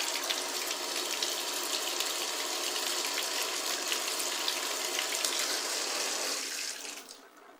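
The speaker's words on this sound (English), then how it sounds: "Also flush it with water as well," Water rushes steadily through the hose and valves of a US Army MOLLE II hydration carrier bladder, a continuous hissing gush that stays loud and close, then tapers off near the end.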